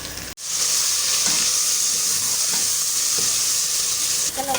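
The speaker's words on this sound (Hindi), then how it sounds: "ये देखें गाइस, हमारा गोश्त फ्राई हो चुका है।" Chicken meat frying in a pot for dum biryani: loud, continuous close-up sizzling and hissing of hot oil, with a brief stir or clatter near the start and faint scraping.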